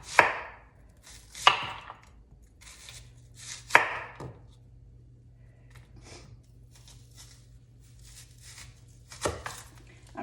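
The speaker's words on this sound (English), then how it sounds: "So cutting up the onion." A knife chops a whole onion on a cutting board for a one-pot hamburger and potato dish, giving several sharp, distinct close chops with pauses and softer taps between them.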